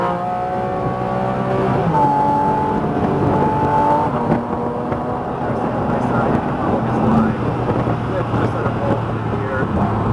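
Nissan GT-R Nismo engine pulling hard on a race track, a steady loud drone with rising harmonic tones under wind buffeting, while an instructor talks over it.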